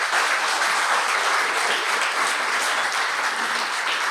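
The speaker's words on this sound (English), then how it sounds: "I would like to start this podcast with a round of applause for" A live podcast audience in a venue gives a guest a round of applause, steady dense clapping from many hands that carries loud and unbroken throughout, with no voices over it.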